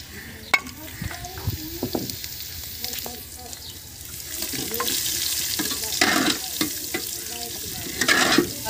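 Garlic sizzles in a pan with browned onions for a Sufaid Chohlay curry, a steady frying hiss with stirring and scraping that grows louder and busier as the spoon works through the pan.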